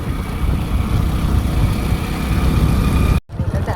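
A vehicle engine with a newly replaced silencer idles with a steady low rumble, briefly cutting out near the end before running again.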